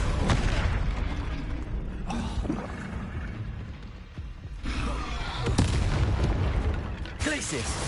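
Bombarda spell explosions in Hogwarts Legacy go off as repeated heavy booming blasts with crackling bursts, loud and dense over game combat noise.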